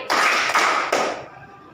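Children in a classroom clap twice in unison, two crisp group claps close together, followed by a brief scattered third patter as it fades.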